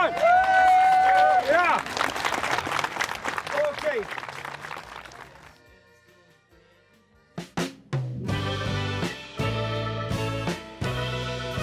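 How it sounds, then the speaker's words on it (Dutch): A studio audience gives a short burst of applause and shouts near the start, which fades into quiet, then music and talking follow. "Heeft ze nog maar een keer een applaus, go!"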